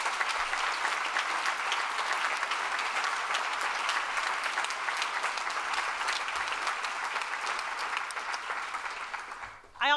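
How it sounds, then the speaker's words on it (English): A sustained round of applause fills the hall at the 2016 PEN Literary Awards Ceremony at The New School, many hands clapping steadily for about ten seconds before it fades out. "Please, let's give them a round of applause."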